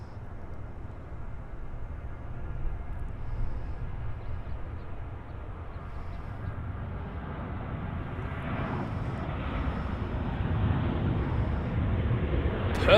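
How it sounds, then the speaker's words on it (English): A Southwest Boeing 737-800 takes off from runway 24 left at Los Angeles airport, a steady distant jet roar that slowly builds over several seconds, with no talk. "Departing off 24 left is Southwest flight WN1286 going to Las Vegas, Nevada. It's a 737-800."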